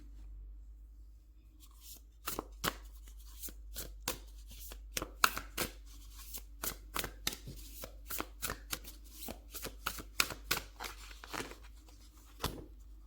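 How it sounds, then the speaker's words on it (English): Angel oracle tarot cards shuffled by hand in rapid riffling bursts, a long run of crisp, close snaps and flicks against a quiet background, with no voice over them. "Let's get you an angel oracle card and see what additional messages we have for you."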